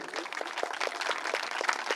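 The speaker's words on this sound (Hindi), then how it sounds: "और जोरदार तालियां तो बजा दे।" Applause from an audience at a Mata ka Jagran devotional night in Kanpur, a dense, even patter of many hands clapping continuously at moderate volume without speech.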